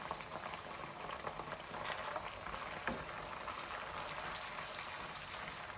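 Ginger garlic paste frying in a pan gives a steady close bubbling sizzle with fine crackles and pops throughout, no voices.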